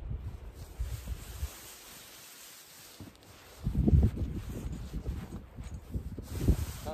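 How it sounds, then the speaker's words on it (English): Wind blows around a winter camp with a hot tent, a rough, rumbling rush against the microphone that eases briefly, then returns in stronger, louder gusts near the end. "want to deflect the wind a little bit"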